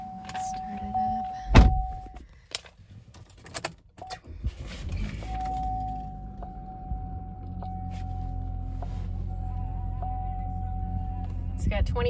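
A Chevrolet Malibu LT with 26,361 miles starts up: a chime tone sounds, a short burst follows, and then the engine settles into a steady, low idle rumble that continues to the end.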